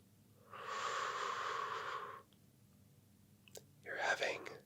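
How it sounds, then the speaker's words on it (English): A slow, deep inhale drawn in close and soft in an ASMR setting, lasting over a second, then a quiet pause and a brief breathy whispered sound. "Deep breath in."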